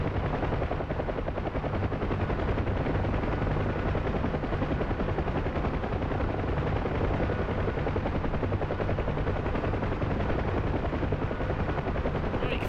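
A Huey helicopter in the DCS flight game drones with a continuous, loud, even rotor thump and turbine roar, steady throughout with no voices.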